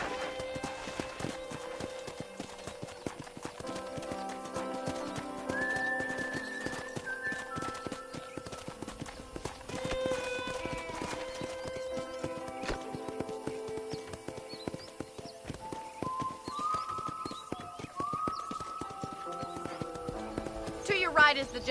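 Horse hooves clip-clop steadily at a walking pace in the Red Dead Redemption western game, with occasional whinnies rising over a steady music bed while someone talks throughout.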